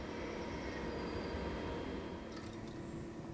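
A freight train of tank wagons carrying lignite dust, supplied by a DRV-100 locomotive, rumbles past in a steady, loud, broadband roar with faint high squeals near the end.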